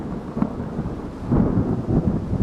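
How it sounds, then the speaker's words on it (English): Heavy, steady downpour of rain with low, rolling thunder rumbling underneath, loud and continuous throughout, with no voices. "I could hear the heavy, unending downpour of the rain continuing"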